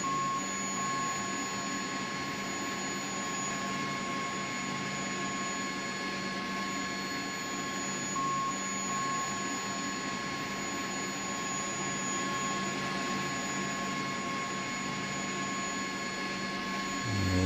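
Steady whine and drone of a CH-47D Chinook's engine at ground idle in the X-Plane 11 flight simulator, continuous and even throughout with a constant high tonal hum over broadband rumble, no voices.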